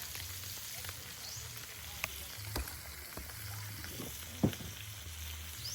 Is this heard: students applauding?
no